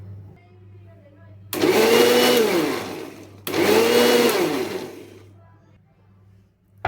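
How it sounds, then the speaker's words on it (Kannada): Two loud bursts of a mixer grinder whirring through muskmelon, each lasting about two seconds with a brief pause between, over a low background hum. "ನಾನು ಮಿಕ್ಸಿ ಜಾರಲ್ಲಿ ಕರ್ಬೂಜ ಹಣ್ಣನ್ನು ಮಿಕ್ಸಿ ಮಾಡ್ಕೊಂಡು ಬರ್ತೀನಿ"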